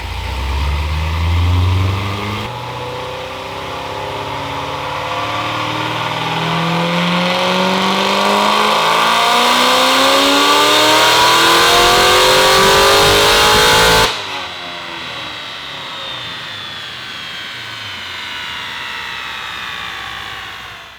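A 2014 Chevrolet Corvette C7 Z06 makes a baseline dyno pull. The loud engine revs in one long rising sweep, cuts off sharply near the top, then winds down with a fading whine.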